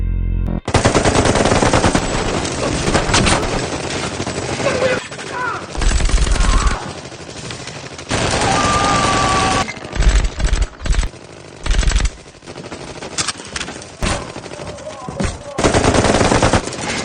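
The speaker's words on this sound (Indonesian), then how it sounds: "Setelah baku tembak, regu Jaka pun kalah maupun amunisi dan diburu oleh anak buah Tama yang kejam dan beringas" Heavy gunfire rips through a police shootout with gangsters in an action film: sustained loud machine-gun bursts and volleys, broken by brief pauses, with a narrating voice over the shooting.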